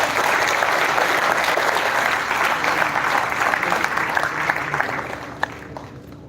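An audience at an inaugural event applauds, a dense, loud wash of many hands clapping continuously before tapering off at the end.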